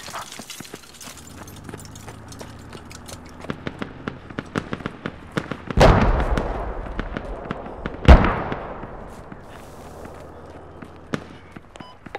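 Mortar strikes in a tactical multiplayer squad shooter game: two heavy booming blasts rise out of a busy field of scattered sharp gunshots and distant pops, with no talk.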